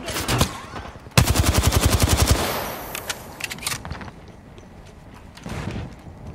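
Charge rifle gunfire in the Apex Legends video game: a loud, rapid burst of shots for about a second, followed by sparser single cracks and a fainter later flurry, with brief voice chat.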